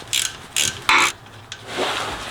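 A ratchet wrench works a 10 mm bolt holding power steering lines on the steering rack of a 2001-2007 first-gen Toyota Sequoia: short bursts of rapid metallic clicking, three quick strokes and then softer ones, close and loud.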